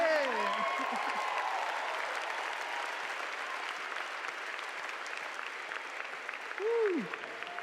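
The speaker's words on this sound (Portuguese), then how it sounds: "Vamos aplaudir o dono da casa." Applause from an audience at a church conference, a broad wash of clapping that fades slowly, with speech-like voices and a shout near the start and again toward the end.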